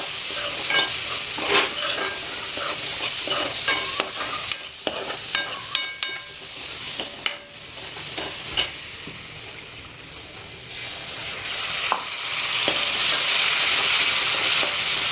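Masala sizzling in oil in a pan while cooking a gram-leaf dish: a steady frying hiss broken by repeated scraping and clattering stir strokes, which fade before the sizzle swells again at the end.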